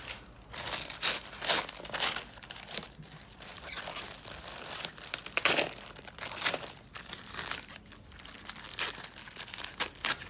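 Packaging around a mail-order Philodendron plant is unwrapped, with bursts of crinkling and tearing plastic and paper that come in uneven rustling spurts, close and moderately loud.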